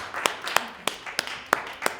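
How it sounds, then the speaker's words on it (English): An audience at a Chicago book discussion on the women of Parliament-Funkadelic gives a handful of scattered, separate claps at an uneven pace. They sound fairly faint and roomy, with no one speaking. "Clap for that."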